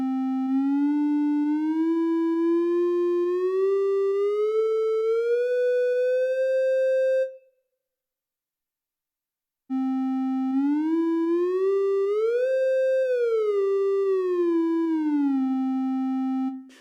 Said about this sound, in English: then it will also slide between any 2 notes. And then we can set how quickly it slides